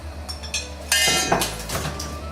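Starch slurry stirred in a small container and poured into a pan for sweet and sour stir fry sauce, with clinking utensil taps early on, then a louder sizzling rush as it hits the hot pan.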